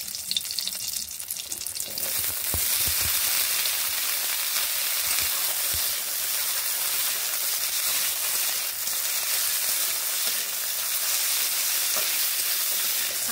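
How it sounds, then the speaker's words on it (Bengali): Potatoes fry in a pan tempered with black cumin, giving a close, continuous hiss and crackle of sizzling oil that swells after a brief quieter start and holds steady throughout. "আলুগুলোকে এইভাবে ভেজে নিচ্ছি।"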